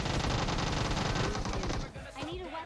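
Enemy gunfire in PUBG Mobile, a rapid, loud burst of continuous automatic shots that tapers off into a few scattered cracks near the end.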